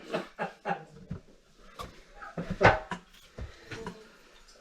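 A dog makes short, soft barks and whimpering sounds in a quiet kitchen, a few quick bursts spaced irregularly.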